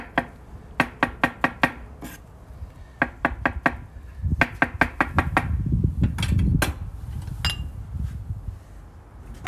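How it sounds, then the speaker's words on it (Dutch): A knife chops a ripe avocado into coarse pieces on a board during outdoor cooking, giving a quick, uneven run of sharp knocks and taps that grow busier and denser partway through. "We gaan de avocado even in wat grove stukken snijden."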